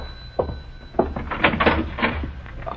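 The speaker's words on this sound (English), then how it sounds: "I'll answer the door, Mike." A door is answered and opened as a radio drama sound effect, with a few brief knocks and wooden thunks close by.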